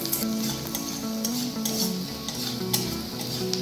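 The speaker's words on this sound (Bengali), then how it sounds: "পেঁয়াজটাকে হালকা করে একটু ভেজে নেব।" Onion lightly frying in a pan gives a steady, close sizzle with soft stirring scrapes, all under continuous background music.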